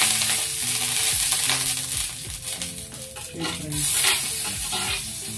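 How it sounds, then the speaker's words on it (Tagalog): Garlic sizzles loudly in a hot pan while a utensil stirs and scrapes steadily through it, with a single spoken word briefly over the frying. "try natin mag-brown muna ng yung bawang bago natin lagay yung sibuyas"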